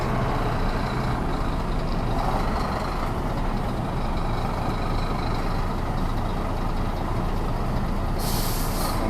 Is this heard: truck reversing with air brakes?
yes